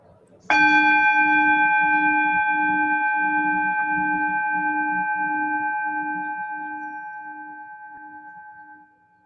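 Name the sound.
meditation bell struck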